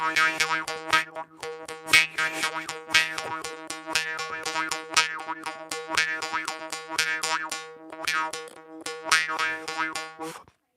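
Jaw harp played solo with a fast twanging rhythm, bright buzzy overtones sliding over a steady low drone, close and fairly loud, with brief pauses between phrases.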